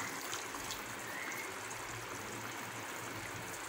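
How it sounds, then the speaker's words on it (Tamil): A quiet, steady trickle of water poured into simmering mushroom gravy, soft and continuous with faint background hiss. "கிரேவி ரொம்ப திக்காக இருக்கனால நான் கொஞ்சம் தண்ணி சேர்த்துக்கிறேன்"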